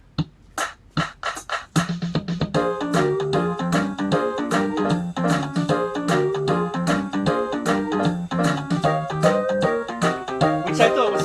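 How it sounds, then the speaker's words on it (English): Yamaha PSR-48 keyboard running its boogie woogie piano rhythm, with a hummed voice sample in the background; a few sharp hits open it, then a steady rolling bass line with percussive ticks plays on, moderately loud. "One of my other favorite rhythms on here is like the boogie woogie piano."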